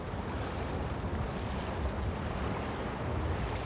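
Sea water in BELOW, heard as a steady, even wash of surf and rushing water with wind-like noise throughout and no distinct events.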